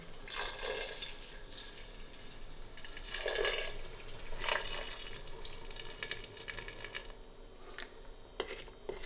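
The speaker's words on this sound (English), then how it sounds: "I'll add some more hot water and put the lid on" Hot water runs and splashes steadily into a pot of frozen spinach for several seconds, with bursts of pouring and a few small clinks near the end.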